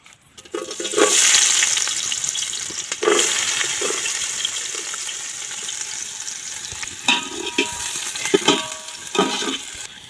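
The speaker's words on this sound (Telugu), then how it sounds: "ఫస్ట్ ఆఫ్ ఆల్ అయితే మనం ఆయిల్ పోసుకోవాలి. సో ఇప్పుడు కట్ చేసినటువంటి ఉల్లిపాయలు వేయాలి." Chopped onions drop into hot oil and fry with a steady, loud sizzle for a village-style biryani curry, with a few bursts of stirring and spattering along the way.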